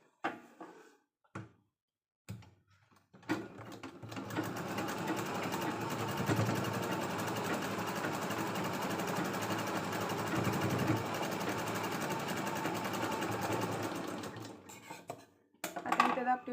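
A sewing machine stitches a cloth bag made from leftover blouse fabric with a sustained, close whirring run of about ten seconds, framed by brief handling clicks and taps before and after.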